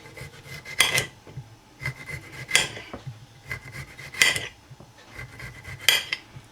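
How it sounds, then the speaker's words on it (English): A kitchen knife chops cucumbers on a cutting board for a potato wedges prep, giving four sharp, close chopping impacts at a slow, uneven pace with soft scraping and rubbing between strikes. "I'm going to chop up some cucumbers"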